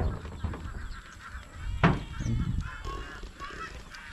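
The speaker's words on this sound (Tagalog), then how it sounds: "Pakain pa ko sa mga alagang bibi." Pet ducks call out at feeding time with loud, nasal honks and quacks, close by, a few overlapping calls in a short burst.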